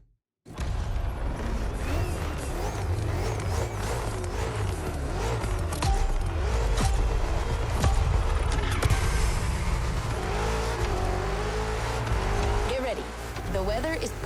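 A BMW M car engine in the video game The Crew Motorfest roars continuously as it drives, rising and shifting in pitch through gear changes, with someone talking over it throughout.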